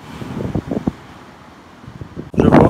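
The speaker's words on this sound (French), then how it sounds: "Il fait 40 degrés et il y a un vent de malade." Strong gusting wind buffets the microphone in 40-degree heat beside a railway line, a steady rumbling roar that swells into a loud, close blast near the end.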